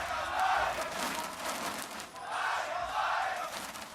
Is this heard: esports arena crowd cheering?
yes